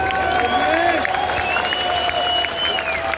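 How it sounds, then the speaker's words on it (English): A crowd at an outdoor street march in London breaks into brief, dense applause and cheering, with shouts and whistle-like tones over a steady roar. "Very much a round of applause for Pastor Phil"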